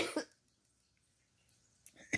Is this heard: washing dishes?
no